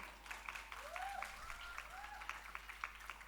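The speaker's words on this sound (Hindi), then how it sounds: "कृपया जोरदार तालियों के साथ स्वागत कीजिए सत्र 2021 से शिवांगी राय को" A Hindi debate audience at Dr. RMLIMS welcomes the first speaker with faint, scattered clapping heard from a distance. Sparse sharp claps continue throughout, along with a couple of soft rising whistle-like tones.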